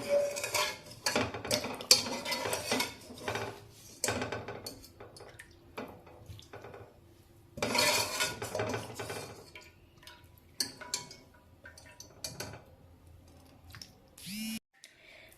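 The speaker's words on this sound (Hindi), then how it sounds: "ये सारा मटेरियल ना छलनी की मदद से उसी पैन में वापस निकाल लेंगे जिसमें हमने भुना था" Thick chicken haleem mixture is pushed through a metal sieve back into the pan, with bursts of scraping, clinking and tapping of utensil on strainer and pan coming in uneven clusters between quieter gaps, close by and moderately loud.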